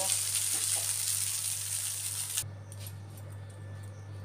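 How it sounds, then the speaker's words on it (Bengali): Chowmein being stir-fried with egg in a pan sizzles steadily up close for a couple of seconds, then the hiss cuts off and leaves a quieter low hum with faint clinks. "একটু ডিম দিয়ে চাউমিনটাকে নেড়ে দিলাম"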